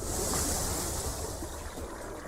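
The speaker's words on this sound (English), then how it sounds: "Tsunamis are gigantic waves that destroy everything in their path when they reach dry land." Ocean surf rolls continuously with a broad, steady wash of breaking waves and a windy hiss, fairly loud and close, with no voices over it.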